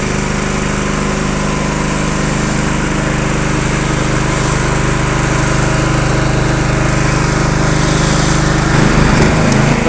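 A gas pressure washer drives a surface cleaner, its small engine droning loud and steady at close range for the whole stretch, with a slight rise in rumble near the end.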